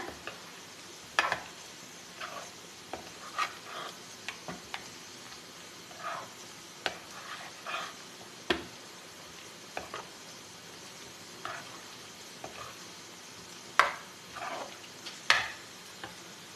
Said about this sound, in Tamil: சேர்த்துட்டு ஒரு தடவை மிக்ஸ் பண்ணிக்கோங்க.